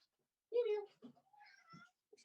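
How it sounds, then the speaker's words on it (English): A Sphynx cat gives a short meow followed by a few softer chirping mews, close and fairly quiet, with faint indoor stillness between the sounds. "a Sphinx cat."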